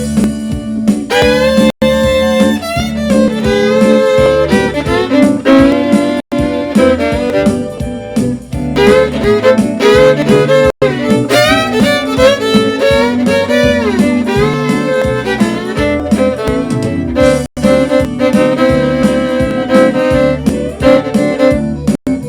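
A country fiddle plays bluesy, colorful melodic notes in a continuous solo run, bright and close with slides between phrases and only brief breaks.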